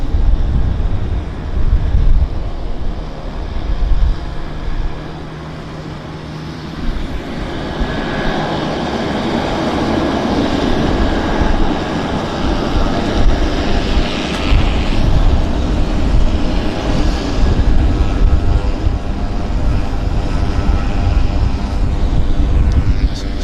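Beechcraft 1900D turboprop of Elcan Air at Vancouver Airport, a loud steady engine roar that swells gradually over more than twenty seconds, heard from a distance outdoors.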